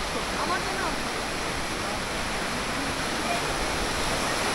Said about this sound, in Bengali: এখন দেখছি জোয়ারের সময় তো বেশ অনেকটাই জলটা মানে বেশ আসছে বড় বড় ঢেউ